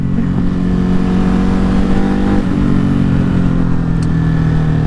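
A Ducati Hypermotard motorcycle engine drones loudly and steadily while riding, its pitch rising slightly as the throttle opens, with rushing wind noise throughout.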